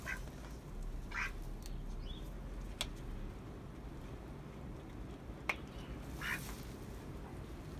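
A duck held for dispatch quacks several times in short, fairly close bursts spaced across a quiet, low-level background.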